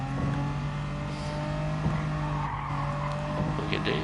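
A car handbrake skid in a PS4 video game, heard as a sustained tire squeal over a humming engine drone, steady and fairly loud, with faint game sounds and no clear speech.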